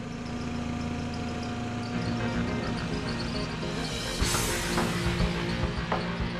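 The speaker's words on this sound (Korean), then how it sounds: "일정 양이 쌓이면 지게차로 들어서 건조장으로 옮기는데요." A forklift carries stacked bricks at a brick factory for hanok construction, its engine idling and rumbling steadily at close range, with a brief rise in noise near the end.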